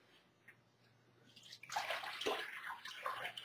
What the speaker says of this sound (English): Then we're going to add water to it